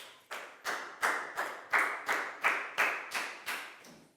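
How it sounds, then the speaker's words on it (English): A class of children claps for a student in an English lesson, giving about ten sharp, evenly spaced bursts of hand claps that each fade quickly, fairly close and with no talking. "High five and a big round of applause for Prel, please, guys"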